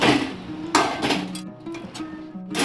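A metal lid set down on a pot of desi-style mutton curry gives a few sharp clanks and rattles, close by in a home kitchen, with light clinks scattered through.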